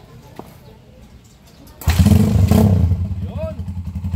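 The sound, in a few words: Honda TMX155 motorcycle converted to 200cc engine starting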